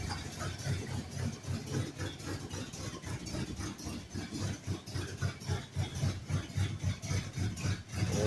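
A 1971 Ford LTD engine idles steadily nearby in a junkyard with a rhythmic, slightly uneven chugging and no voices.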